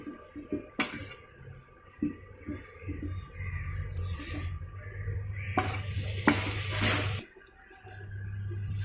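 Coconut being stirred and mixed into ragi and rice puttu, with soft scraping and stirring noises and a few sharp clinks against a vessel, close by over a steady background hum.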